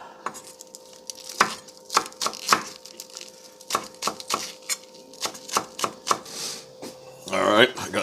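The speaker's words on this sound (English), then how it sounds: "let me chop this up real quick" A knife chops pork on a cutting board in a kitchen, with sharp, irregular knocks spaced about a second apart and a faint hum beneath, ending in a brief rustle.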